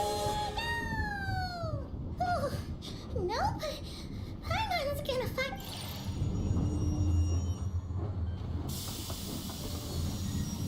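Train running in the Genshin Impact game, a steady rumbling rail sound with hissing steam, heard under game voices and chirpy character sounds.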